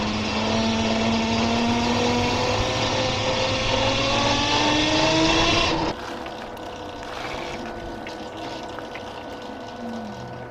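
Lark Machine Co electric motorcycle climbing a hill, with a loud, steady motor whine over wind and road noise that rises slightly in pitch before dropping off abruptly to a quieter hum.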